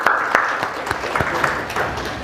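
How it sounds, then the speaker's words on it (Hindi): An audience at a public talk applauds, a dense burst of clapping that holds steady for a couple of seconds, fairly close, with a voice faintly present beneath it. "ताली बजाइए"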